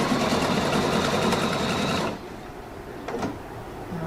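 A Pfaff Quilt Expression 720 sewing machine stitches loudly and steadily for about two seconds up close, then stops, followed by a few faint handling sounds.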